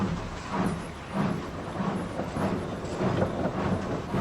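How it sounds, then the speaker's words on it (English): A steam train chuffs away in a steady rhythm, soft repeated puffs less than a second apart over a rumbling background, with no voices. "huffed Thomas as he puffed away with his passenger train."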